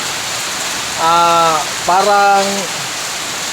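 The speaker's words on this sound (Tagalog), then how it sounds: "matagal-tagal na itong ulan na to" Steady rain falls in a continuous broadband hiss, and someone speaks briefly twice over it.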